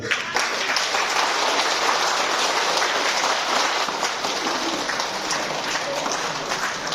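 A group of people clapping together in a lively, continuous round of applause, fairly loud and close, holding steady for several seconds without talk.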